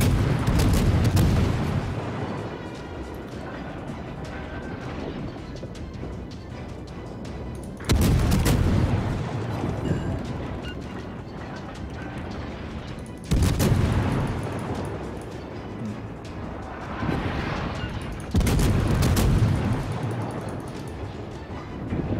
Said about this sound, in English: other people are shooting on him as well